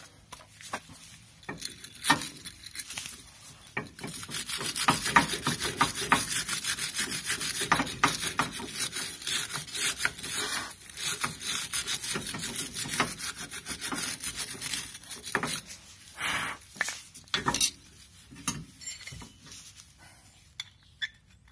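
Metal brake dust is scrubbed off the rear brake of a Honda Elysion, heard as close, irregular scraping and rubbing strokes with clinks of metal, busy and uneven throughout with brief pauses.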